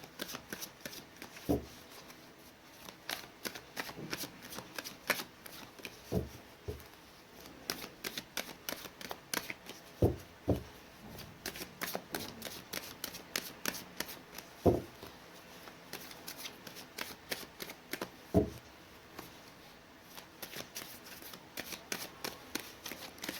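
Tarot cards being shuffled by hand, a long run of soft riffling flutters and taps coming in uneven bursts, close and fairly quiet, with no talk.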